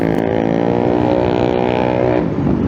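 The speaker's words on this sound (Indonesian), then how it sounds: "Benci banget gue sama motor kayak gitu, knalpotnya berisik banget." A loud, steady motorcycle engine roar with a harsh, buzzing drone from a noisy exhaust running close by without pause.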